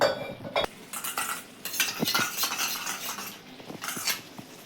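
Spices and green chilli stir-fried together in a pan over very low gas for a Bengali brinjal dish, with a spoon scraping and clinking against the metal in irregular strokes, close up, no talk.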